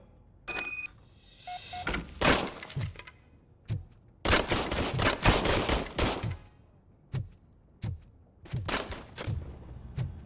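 An old issued service gun fires in Robocop: Rogue City, sharp loud shots alone and in quick clusters, with rapid volleys and single cracks spread between short quiet gaps.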